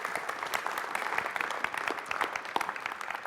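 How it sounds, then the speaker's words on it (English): An indoor audience at a supporter event claps in a steady patter. The clapping is moderately faint and fairly even across the few seconds, with no voices over it. "How about a round of applause for everybody who supports us?"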